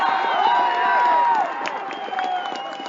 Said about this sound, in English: Let's see the Menominee Maroons cheer on their team, and they are starting to get into this one